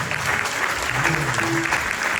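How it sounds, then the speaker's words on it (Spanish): Brief, dense applause from a crowd at a folk dance performance at a Valencia falla, clapping steadily and close for a couple of seconds with faint voices mixed in. "Un aplaudimiento a la compañera."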